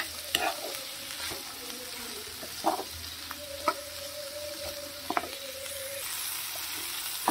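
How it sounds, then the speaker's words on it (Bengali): Mixed vegetables, with smashed tomato among them, fry in a pan, a steady broadband sizzle with intermittent scraping stirs and a few clacks of the spatula throughout, close and moderately loud, no talking. "একটু ভাজা ভাজা করে নেব সমস্ত সবজিটা।"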